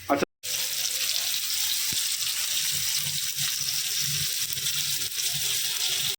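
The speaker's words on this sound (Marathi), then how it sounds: "पण आता आपलं ग्रीन फिश फ्राय करायला सुरू करत आहोत" Emperor snapper fillets coated in semolina, flour, red chilli powder, turmeric and salt fry in a pan with a steady, dense sizzle that runs nearly unbroken after a brief pause at the start.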